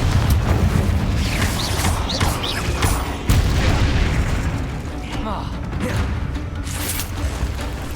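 Confringo fire spell blasts in Hogwarts Legacy mix with other spell effects as a run of booming bursts and crackling pops, thick and continuous over eight seconds, with some faint game voices underneath.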